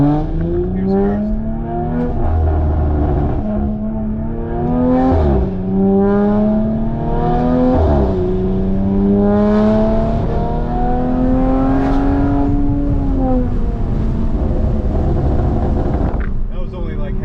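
Modified Audi RS5 in sport mode pulling hard in first gear at partial throttle, engine note rising in long sweeping revs with brief dips at shifts points, loud and close from inside the car throughout.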